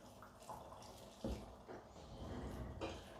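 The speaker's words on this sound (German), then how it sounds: "wir tun jetzt noch mal Wasser rein." Water splashes and gurgles as it is poured into a pot of sulu köfte meatballs, a short continuous pour heard close up.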